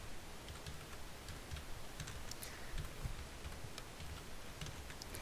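Steady soft clicking of keys on a computer keyboard, with occasional slightly firmer presses such as the tab key, in a quiet room with a faint background hiss and no voices.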